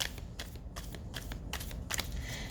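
Tarot cards being shuffled by hand, a run of quick crisp riffling bursts with short pauses between them, close and fairly quiet.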